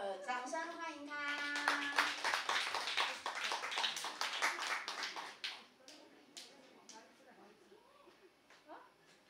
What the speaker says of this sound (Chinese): 掌声欢迎他